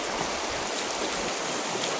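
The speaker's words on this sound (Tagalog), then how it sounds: "Buti na lang mga idol, hindi masyadong malakas yung tubig." Floodwater flows through a flooded street in a continuous rushing wash, close and steady, with no voices.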